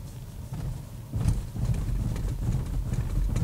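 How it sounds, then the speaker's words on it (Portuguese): A Volvo S60 Recharge R-Design T8 rolls over a row of road studs, giving a steady low rumble and a series of soft, muffled thumps as the suspension soaks up each bump. The sound is fairly loud and close, with no talking. "a gente vai fazer o teste de tachão para ver como a suspensão se comporta"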